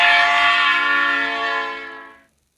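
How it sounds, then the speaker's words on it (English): A GarageBand Moving Machines vehicle horn effect blares as a single long, loud, tonal blast that sustains for about two seconds, then fades out cleanly with nothing else underneath. "that's the noise of a horn blaring"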